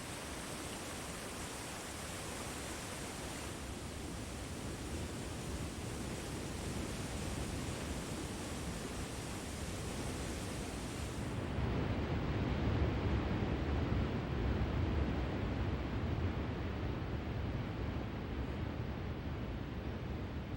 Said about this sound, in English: The grandest of the valley's leaping cascades is Yosemite Falls.